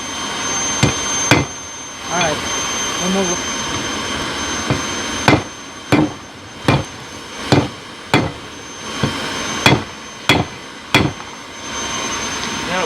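A hammer strikes a fire poker being forge-welded, a series of about a dozen sharp metallic blows at irregular intervals. Brief talk and a low roaring background run between the strikes.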